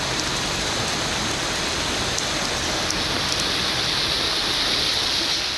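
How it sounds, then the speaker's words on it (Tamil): Moderate rain falls steadily in Madurai, a dense, even hiss of drops hitting surfaces without pause, fairly loud and close, with no voices. "மதுரை மாநகரில் 2வது நாளாக மழை பெய்தது."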